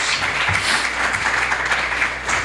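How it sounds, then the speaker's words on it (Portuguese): A church congregation at a worship service applauds together, a dense, steady wash of clapping filling the room at full volume throughout. "Dê uma salva de palmas ao Senhor, toda a igreja."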